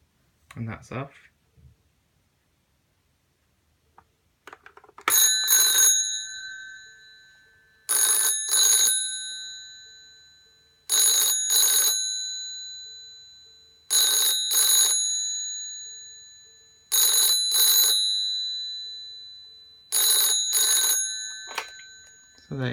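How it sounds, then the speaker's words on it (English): A 1988 BT Tribune 9801AR push-button telephone rings with a bright single-gong chime, six regular bursts of two quick strikes each, close and clear after a few faint clicks at the start. "Quite a nice chime to it really."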